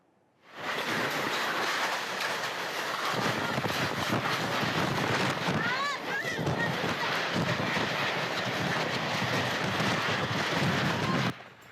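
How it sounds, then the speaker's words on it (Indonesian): A tornado (puting beliung) striking villages in Subang, West Java, brings strong wind with heavy rain as a continuous loud roar of downpour and gusts. It carries on without a break for about eleven seconds. "Angin kencang disertai hujan deras"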